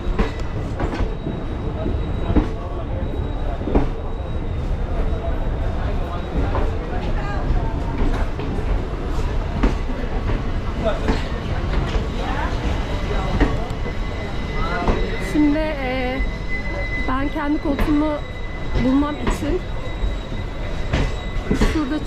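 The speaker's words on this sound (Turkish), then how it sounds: "Hayatımda ilk kez trene biniyorum" A train in India rolling along its rails with continuous rumbling, rhythmic clacking and occasional squealing wheels, while people talk in the carriage.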